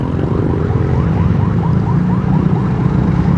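An ambulance siren wails in a repeating rising yelp as the vehicle counterflows through traffic, loud and close over a dense, steady rumble of engines and road noise.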